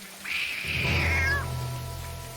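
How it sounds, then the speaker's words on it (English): A single drawn-out cat meow from the video game Lost Horizon, clear and close, rising then falling, followed by a low steady background drone. "Oh, hello, kitty cat."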